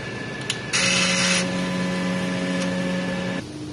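A sublimation printer runs a print head cleaning cycle, giving a steady electronic whine with a brief harsher mechanical burst early on, then a lower hum that shifts in pitch before stopping, close and clear with no talk.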